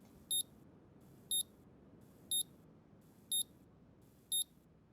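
Regular high-pitched electronic beeps, five evenly spaced one per second, from a testing tool in the car repair game Car Mechanic Simulator 2021, crisp against a quiet low hum.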